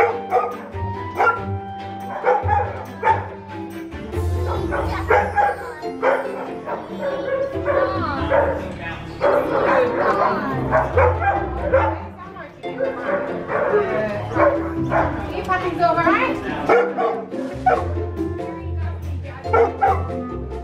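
Therapy dogs at a guide dog facility bark, yip and whimper repeatedly at close range, while people talk over and between the barks throughout.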